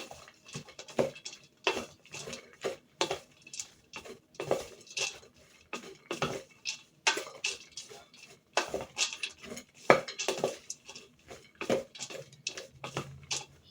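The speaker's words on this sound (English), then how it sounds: "Mix that together." Dry ingredients for old-fashioned cookies being mixed in a bowl, giving a steady run of close, quick scraping and clinking taps of a utensil against the bowl, with no talking.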